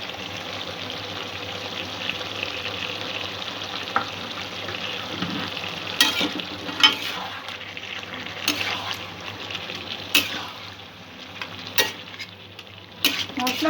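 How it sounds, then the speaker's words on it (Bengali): Chicken sizzles in a pan with spices and ginger garlic paste as it is fried down, a steady soft crackle broken by scraping stirs and occasional clinks of a utensil, with no talk. "মশলাগুলো দিয়ে মাংসটা কিছুক্ষণ কষতে হবে।"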